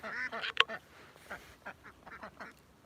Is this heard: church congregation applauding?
no